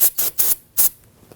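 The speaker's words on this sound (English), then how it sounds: "Spray it down with some spray solvent." Aerosol solvent sprayed onto a newly fitted rear brake hose of a 2013–2019 Ford Interceptor Utility, four short hissing bursts in quick succession, close and loud, then quiet.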